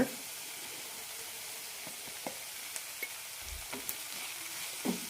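Vegetables stirred in a pan with turmeric, chilli and garam masala powders, a faint low sizzle under scattered soft scraping and tapping spoon strokes.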